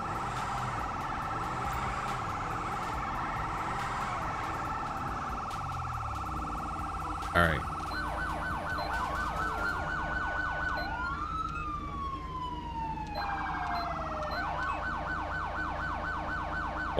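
A police car siren from an ELS emergency-lighting mod in the PC game GTA 5 wails loudly and without a break, shifting between wail and yelp patterns partway through. A short spoken remark comes in near the middle.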